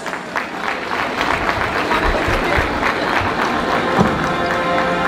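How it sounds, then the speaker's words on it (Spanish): Steady applause fills a quinceañera celebration hall as guests clap for the birthday girl's waltz with her court of honor, a dense, continuous crowd sound with some cheering mixed in. "pido un fuerte aplauso para ellos"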